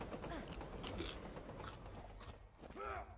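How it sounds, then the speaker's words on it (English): Someone crunching and chewing food close up, with irregular crisp bites and squelchy chewing sounds in a soft, uneven rhythm. "Crunch, crunch."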